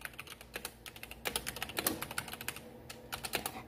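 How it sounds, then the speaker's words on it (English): Rapid, uneven typing on a computer keyboard, a steady stream of close, crisp key clicks with occasional heavier bursts, played alone without any voices. "I'm just gonna keep typing and typing until somebody comes."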